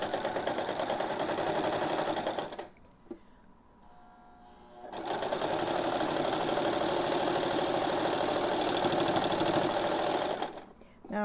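Sewing machine zigzag stitching across the band seam of a pillowcase, a loud rapid mechanical whirr running in two long bursts with a brief quiet pause between, close up.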